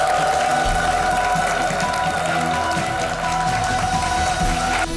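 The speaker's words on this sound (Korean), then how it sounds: "큰 박수로 맞아주세요." A studio audience on a TV talk show applauds as a guest enters, a steady clapping wash mixed under loud, sustained music.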